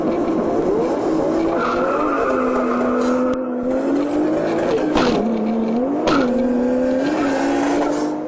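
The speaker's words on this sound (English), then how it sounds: "The black car launches better but bogs down badly." Drag race cars launching hard, engines roaring loud and close, the pitch climbing and then faltering as one car bogs down, with tire squeal and skidding over the steady engine noise.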